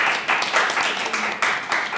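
An audience at an academic conference applauding two presenters, a short burst of dense clapping from a roomful of people, fairly close and steady.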